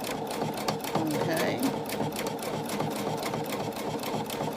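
A domestic sewing machine quilts a pillow cover, its rapid needle chatter running close and continuous, with a voice speaking briefly alongside.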